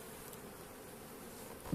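A strong, unreduced hive of Caucasian and Carniolan honeybees drones in a low, even buzz during a frame inspection, faint and constant with a brief nearer swell at the end.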